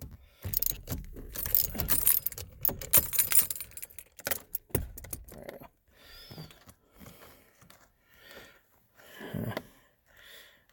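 Small 8mm steering wheel bolts being loosened with a socket wrench on a 2003 Ford Ranger, close metallic clinks, ratcheting clicks and jangling in irregular bursts, with quieter handling noises and pauses afterward.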